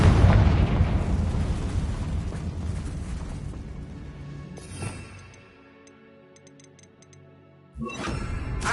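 A Confringo fire spell bursts in Hogwarts Legacy with a loud fiery explosion that rumbles and fades into quiet, followed by small ticks and a second burst near the end.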